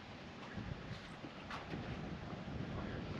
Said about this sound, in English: Nice wind, cool things down.